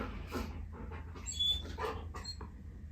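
A dog whimpers and pants softly in several short, high-pitched bursts after petting stops, heard close over a low steady background hum.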